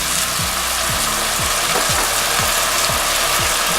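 Green beans and beef sauté with cognac in a hot pan, a loud continuous sizzle broken by regular scraping strokes of a spatula stirring roughly twice a second.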